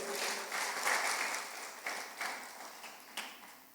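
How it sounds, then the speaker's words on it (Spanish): A church congregation at an Easter Sunday sermon applauds in a dense burst of clapping that gradually thins and fades over a few seconds, with scattered louder claps near the end. "Apláudele si quieres aplaudirle."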